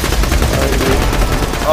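Rapid gunfire rattles loudly and close in the Borderlands 2 video game, a dense burst of repeated shots lasting under two seconds.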